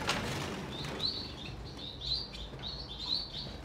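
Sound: Bengalese finch chicks chirping

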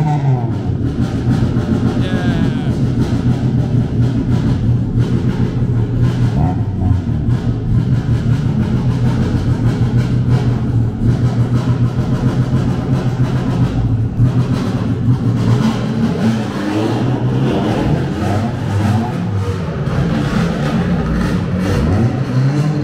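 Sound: cars driving at a race track day, Honda, Subaru WRX

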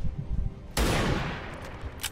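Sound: gunfire from the video game XCOM 2

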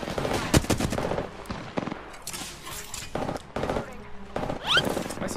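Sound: gunfire in the video game Apex Legends

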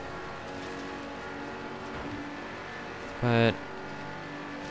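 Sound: car driving in a video game, Quartz Regalia 723

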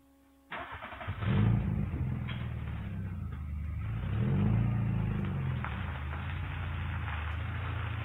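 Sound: car stopping and reversing

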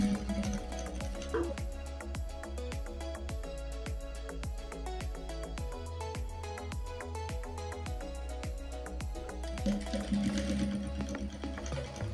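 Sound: sewing machine stitching fabric seam for a boho bag

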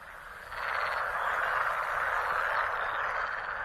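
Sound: male frogs croaking

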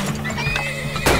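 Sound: horse neighing in the video game Turmoil

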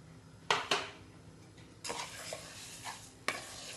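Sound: sugar being stirred continuously in a pan

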